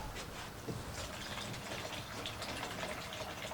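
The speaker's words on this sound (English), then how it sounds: "You put some sparkling water in there?" Sparkling water pours over ice into a glass for a hydrosol mocktail, a steady fizzing, crackling stream of bubbles and liquid heard close up and alone, fairly quiet throughout.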